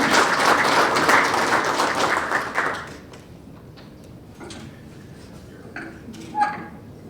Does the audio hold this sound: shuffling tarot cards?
no